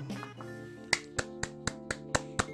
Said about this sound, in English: let me give it another clap.